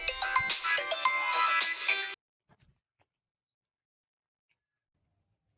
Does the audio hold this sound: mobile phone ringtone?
yes